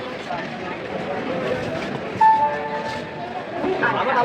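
A train leaving Jalgaon station rumbles and rattles steadily, with a brief tonal horn-like note partway through, the rolling noise continuing to the end.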